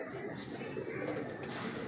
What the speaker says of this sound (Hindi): बड़ा बाजी मेकर कबूतर है माशाल्लाह